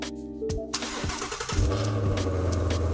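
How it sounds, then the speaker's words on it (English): A Ford Mustang GT350 engine cranks briefly and catches, then settles into a loud, deep rumble that holds steady close by. "Now I can switch box on, start the vehicle."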